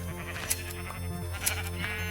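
Sheep bleating in the video game Minecraft, two short bleats about a second apart over a steady droning game background, with several animals implied nearby.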